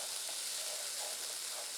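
Ham and vegetables fry in a pan over medium heat for a Nova Scotia-style corn chowder, giving a continuous soft sizzle and crackle, steady and fairly quiet, with no talking.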